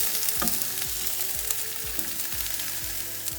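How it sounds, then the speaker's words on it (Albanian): Chicken fillets fry lightly in a pan with a steady, close sizzle and occasional soft scraping strokes, with no voices. "Tani shikojmë, e tham do t'i bëjmë në tavë, do t'japim vetëm një skuqe të lehtë"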